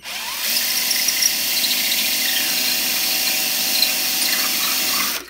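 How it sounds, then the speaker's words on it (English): Power drill boring a hole in a Technics turntable dust cover hinge bracket, one continuous steady whine running near and loud for about five seconds, starting and stopping abruptly. "So I'm basically drilling and then applying pressure to the right."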